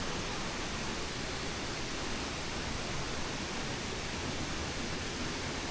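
A waterfall on the Hantan River roars as a constant, broadband rush of falling water, loud and even from start to finish with no other sounds standing out.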